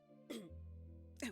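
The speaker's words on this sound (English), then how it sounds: "The king coughed up, bringing blood." A single rough cough with a throaty catch, then a low sustained hum beneath it and a second cough at the end, close and fairly quiet, with no speech.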